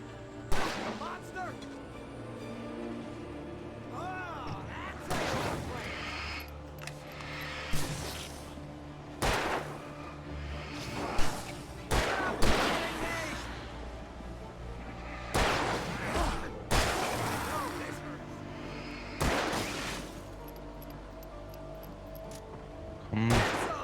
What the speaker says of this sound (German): Schieß auf ihn!